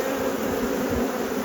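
Bees around an open hive in an Australian bee yard, a dense, steady drone of many insects buzzing up close without pause.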